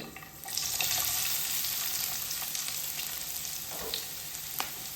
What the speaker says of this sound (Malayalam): ഇനി ഇതിലേക്ക് ഇതാ ഒരു സവാള അരിഞ്ഞതും കൂടി ഇട്ട് കൊടുക്കുന്നുണ്ട്.